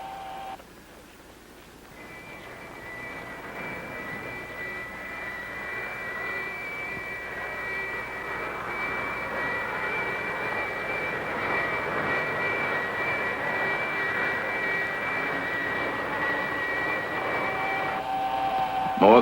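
Jet aircraft engine sound effect from a 1965 science-fiction space film, a rising whine and roar that swells steadily in thrust after a brief quiet start, loud and continuous throughout.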